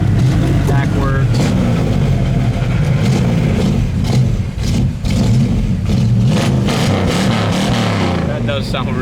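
The engine of a 1965 Chevrolet El Camino runs with a steady, crisp, loud rumble throughout, close by, with people talking over it.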